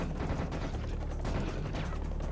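Rapid gunfire rattles nonstop in Serious Sam The First Encounter, a dense burst of machine-gun-like shots, loud and close, with no voice over it.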